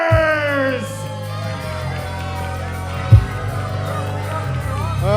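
A wrestling crowd at a Phoenix Pro Wrestling show sustains a loud, continuous mix of yells, whoops and jeering shouts, with a sharp spike of noise partway through before the steady roar resumes.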